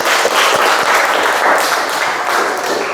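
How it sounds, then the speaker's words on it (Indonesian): Students in a classroom applaud together, a dense, steady wash of clapping that fills the whole stretch at close range with no talk over it. "aplaus, tepuk tangan dulu."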